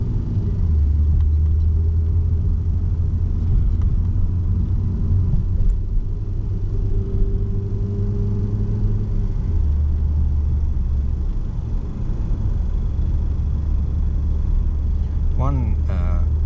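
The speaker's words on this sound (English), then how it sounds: "You can always hear the engine going." An older Mitsubishi Magna's engine idles low just after a cold start, a steady close rumble with a constant deep hum running alone throughout.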